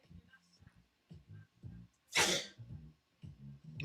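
A single sharp, loud sneeze bursts out between stretches of quiet talk during an online chess game.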